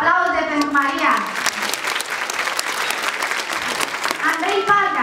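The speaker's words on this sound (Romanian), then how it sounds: "Aplauze pentru Maria!" Audience applause at a dance competition, a full burst of clapping and cheering, with a presenter's voice heard at the start and again near the end over the claps.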